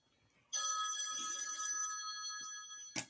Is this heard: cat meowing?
no